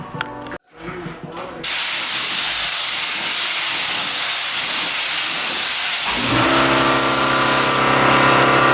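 An aerosol can sprays tint onto amber car taillights in a long, loud, continuous hiss, broken briefly near the start, with a mechanical tone rising beneath it toward the end.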